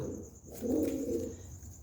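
Pigeons coo in a low, throaty burst that swells in the middle and then trails off, fairly close, with no voices over it.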